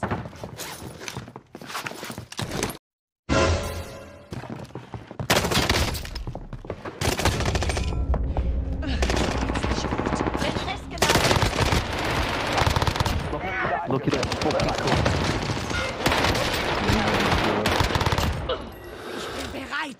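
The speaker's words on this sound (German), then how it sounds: "Ich bin unter Beschuss!" Rapid gunfire crackles through a Call of Duty: Warzone match, dense bursts of automatic shots and fusillades nearly nonstop after a brief dropout, loud and close with footsteps and a voice mixed in.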